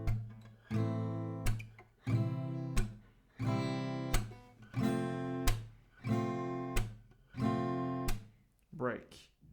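An acoustic guitar strums the pre-chorus of a song in a steady pattern of sharp, accented strokes with ringing chords between, close and clear, ending on a brief stop.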